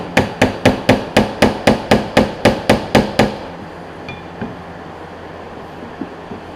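A ball peen hammer strikes metal about a dozen times in a fast, steady rhythm, loud and close, during a 1998 Forester rear wiper motor replacement, then stops, leaving quiet room noise with a couple of faint clinks.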